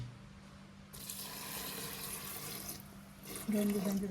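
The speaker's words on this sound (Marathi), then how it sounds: "पाणी टाकायचं आता याच्यात पाणी" Water runs and splashes steadily into a pot of kuda bean pods for a few seconds, growing louder near the end, close by.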